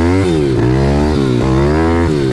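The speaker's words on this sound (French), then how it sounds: "Le but c'est de vérifier que le moteur fonctionne bien." A tuned, home-prepped 140 YX engine with a long transmission idles and revs up in several sharp, rising blips, nearby, loud and raspy, each rev swelling and dropping back, with no talking.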